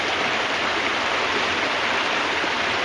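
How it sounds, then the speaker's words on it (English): A creek flows in a steady, dense rushing wash, loud and close, unbroken for the full few seconds with no voices. "There's a pretty creek."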